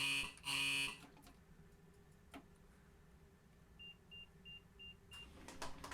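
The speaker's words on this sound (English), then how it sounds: "That's the driver's buzzer." A steady low engine hum with a brief loud tone early on, then a run of five short, evenly spaced electronic beeps from the driver's buzzer of a Class 801 train in Train Simulator Classic.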